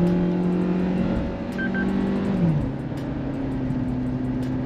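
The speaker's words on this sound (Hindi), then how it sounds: "5500 RPM तक रेव हो रही है" A Suzuki Jimny 4x4 engine revs hard while driving, pitch climbing steadily then dropping sharply as it shifts, followed by a steady, lower engine drone, loud and close with no talk.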